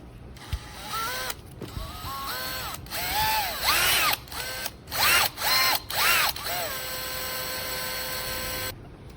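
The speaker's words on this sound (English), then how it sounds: "We grabbed a 15/64 bit. We're going to drill through at our point here." A power drill with a 15/64 bit bores through a Yamaha YZ motorcycle seat, its motor whining up in several short bursts and longer runs with brief pauses between them, close and fairly loud.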